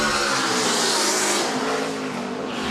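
A race car at the Goodwood Festival of Speed hill climb blasts past loud and close, its engine howling under braking and then pulling hard again.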